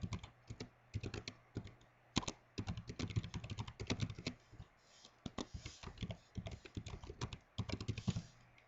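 Steady typing on a computer keyboard as a bug title is entered in a software testing tool: rapid, uneven clicking keystrokes with brief pauses and a few heavier taps, close and isolated with no talking.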